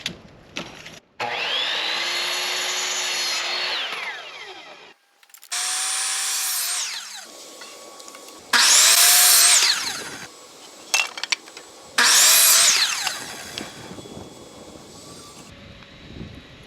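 Power saw ripping a 2x2 board lengthwise for a camper roof wood rot repair, several loud bursts of whining cutting separated by brief pauses, close and unaccompanied by talk.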